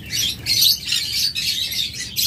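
Cockatiels and lovebirds caged for sale chirp in rapid, high, repeated bursts, close and loud, with no voices present.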